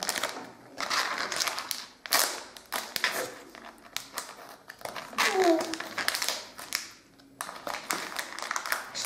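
A crinkly Yoo Hoo surprise bag being torn open and handled makes bursts of close, loud crackling and rustling, mixed with a child and an adult chatting.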